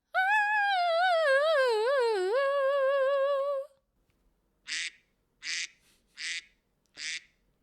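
A duck quacking sound effect gives four short, evenly spaced quacks, close and clear, after a long warbling tone that opens the sound.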